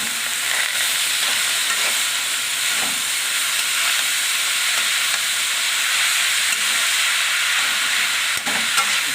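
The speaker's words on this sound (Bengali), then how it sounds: "এটা ঘি দিয়েই ভাজবো।" Grated carrots frying in ghee: a loud, steady sizzle and hiss that holds throughout, close up, with no talk.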